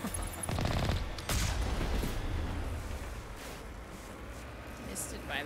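The Mako armored vehicle in Mass Effect 1 Legendary Edition opens fire in a loud burst of heavy booming gunfire that rumbles and fades over a few seconds.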